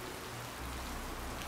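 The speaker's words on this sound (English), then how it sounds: "Come on, it's raining." Steady rain in the video game Wasteland 2: a dense, continuous hiss of falling drops with a faint low rumble underneath, even in loudness throughout and with no voices.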